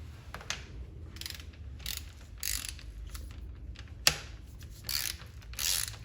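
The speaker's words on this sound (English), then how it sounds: "Then we go up to 35 Newton meter on the torque wrench." A torque wrench tightens the bolt of a SRAM Eagle Transmission derailleur on a bike, making a series of ratcheting clicks in short bursts at close range, with one sharp click near the end.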